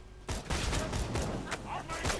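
Rapid video-game gunfire in Borderlands 2, a dense, loud fusillade of shots filling the whole stretch after a brief quiet start, with bursts crackling over one another and a voice faintly underneath.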